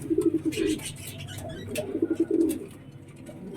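A pigeon cooing close by in two bursts of low, throaty, rolling coos with a short quiet gap between them, no talking.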